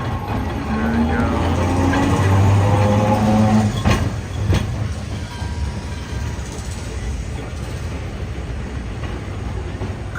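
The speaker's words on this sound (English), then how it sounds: "this tram goes to the beach area" A tram in downtown Porto, Portugal hums and whines as it pulls away, a rising motor tone over a steady rumble, with a couple of sharp knocks midway.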